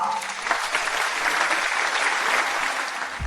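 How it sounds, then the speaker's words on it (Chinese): A school audience applauds to welcome the factory director and his wife onto the stage at a ceremony celebrating his donation of a new library, a steady, full round of crowd clapping lasting a few seconds. "让我们用掌声有请贾厂长夫妇上台讲话"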